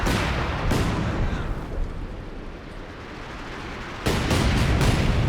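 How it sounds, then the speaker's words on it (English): A light artillery barrage in the World War II strategy game Company of Heroes 2, with dense rumbling blasts and rolling booms throughout and sharp, louder impacts at the start and again near the end. "Oh, that's a nasty light artillery barrage."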